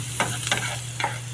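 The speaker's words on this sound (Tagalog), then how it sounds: "Lalaglag na natin ang ating sibuyas sa bawang." Onion and garlic frying in butter in a pan for a butter kangkong side dish, a steady close sizzle with a few sharp stirring scrapes.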